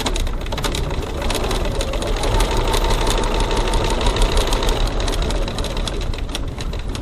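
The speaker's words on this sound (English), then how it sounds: "Stitching across the panel, 3mm 1/8 of an inch from the edge." A sewing machine stitches across a leather wallet panel, a fast steady mechanical whir and needle chatter running loud and close the whole time, with no talking.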